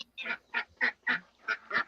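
Nearby ducks quack in a quick series of about seven loud, nasal calls at a steady rhythm, clear and unaccompanied by talk.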